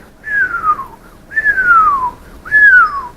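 A person whistles three downward-swooping chirps imitating bat sonar calls, each sliding from high to lower pitch over about three-quarters of a second, evenly spaced and clear, with no other sound.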